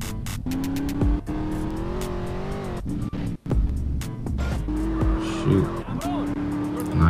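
A car in Grand Theft Auto San Andreas brakes hard with sustained tire squeals and skidding over a steady engine drone, repeated screeches rising and falling across several seconds, loud and close.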